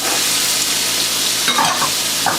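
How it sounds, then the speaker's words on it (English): Onions, carrots and celery sizzle in oil in a pot as the base for a fish stock made from fish heads, a loud, steady frying hiss with a brief stir partway through. "I'm going to sweat these down for a while"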